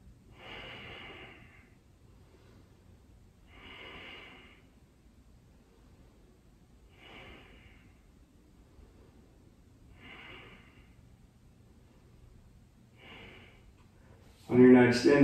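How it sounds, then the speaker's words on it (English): Deep, slow breaths during a yoga hold, with five evenly spaced airy inhales and exhales about three seconds apart, heard close and quiet, with a sharp louder noise at the very end. "And we'll take a couple breaths here."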